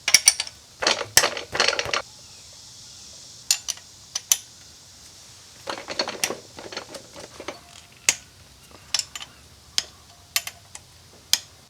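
Ratchet clicking close by as nuts are undone on an H1 engine head, short bursts of rapid metallic ticks separated by pauses, with occasional single clicks and clunks of tools.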